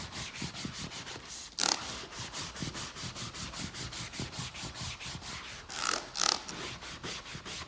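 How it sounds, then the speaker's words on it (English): Rhythmic back-and-forth rubbing removes the dyed surface coating from a leather sofa, each close, scratchy stroke repeating steadily, with a few harder, louder strokes. "you don't want to rub too aggressively or anything like that either"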